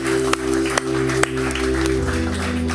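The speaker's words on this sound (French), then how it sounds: "On peut-tu leur donner une bonne main d'applaudissement ce matin?" A church congregation claps during a French-language morning service, a soft wash of applause with a few sharper claps, set against a steady sustained tone from instruments.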